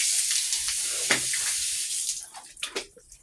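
Water gushing from a tap during washing, a loud steady hissing stream that breaks into uneven splashes and trickles before tapering off.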